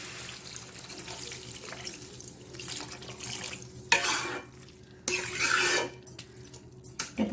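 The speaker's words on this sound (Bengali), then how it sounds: "জল দিয়ে দিলাম।" A little water is poured into a pan of fried cabbage with spices. Two loud bursts of hissing sizzle are heard, mixed with faint clinks of a utensil. The kitchen is otherwise quiet, with no talking.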